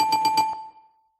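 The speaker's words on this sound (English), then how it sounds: "Ringing the bell." A bell struck four times in quick succession, bright and ringing with a sustained metallic tone that decays slowly after the last strike, clear and close with no talk over it.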